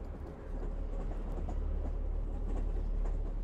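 A train rumbles along as a sound effect, a low, steady rolling roar with faint rhythmic clatter of wheels on track, fairly quiet and continuous with no voices over it.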